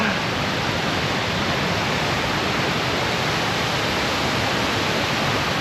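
A stream flows below a viewpoint along the Icefields Parkway in Canada, a loud, dense and unbroken rush of water that holds steady throughout.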